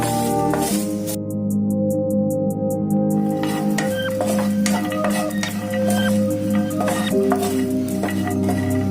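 Coconut is dry-roasted and stirred in a pan for sambar, giving close, repeated metallic scrapes and clinks of the spoon against the pan over a steady background hum.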